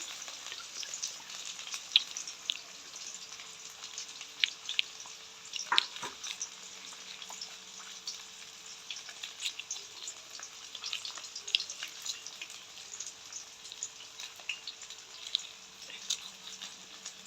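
Pandan leaves sizzle in hot oil in a pan for a Jaffna-style fish curry, with a continuous soft frying hiss dotted with small crackles and pops, fairly quiet and steady.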